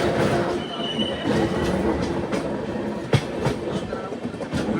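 Gomteshwara Express on the Bengaluru to Mangaluru line rolling downhill through misty ghat country, with a steady loud rumble of wheels and carriages and a few sharp clanks near the middle, heard from on board.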